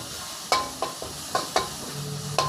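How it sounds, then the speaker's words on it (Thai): Chili and garlic are stir-fried in a pan over medium-low heat for a spicy basil pork dish. A low sizzle sits under about six sharp spatula scrapes at an uneven rhythm, with no speech. "ใส่พริกกับกระเทียม ช่วงนี้ใช้ไฟกลางค่อนไปอ่อนก่อนนะครับ ในช่วงผัดพริกกับกระเทียม"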